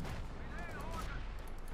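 Machine gun fire in Company of Heroes 2 rattles in a steady, muffled stream, moderately loud, under a continuous wash of battle noise.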